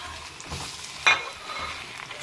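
Crushed red chillies dropped into hot oil for mash daal, a soft steady sizzle with a sharp crackling burst about midway, close and alone with no talking.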